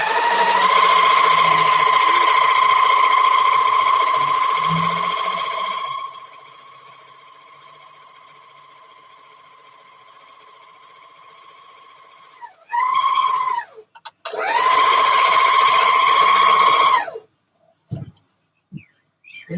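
A serger stitches the bottom edge of a dress, giving a loud whining hum for several seconds. After a quiet pause, two shorter bursts of running follow, with no voices.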